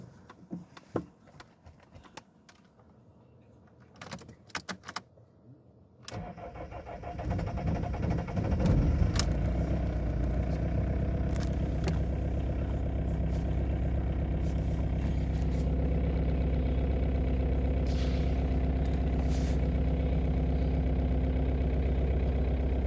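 A BMW E46 320d with a 136 hp VP44 diesel, run on a waste motor oil mixture, cranks and starts about six seconds in, then settles into a loud, steady, rumbling idle that holds close and continuous to the end.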